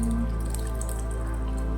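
Evaporated milk poured into a pot of sopas gives a steady liquid trickle with soft dripping and squishing over a constant low background hum, close and continuous, with no talking.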